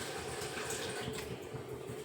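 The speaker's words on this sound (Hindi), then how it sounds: "तो हम लोग भी भर देते हैं पानी।" Water is poured into a pot of chickpea curry (chhole) cooking on a home stove, a steady continuous splashing fill with no talking.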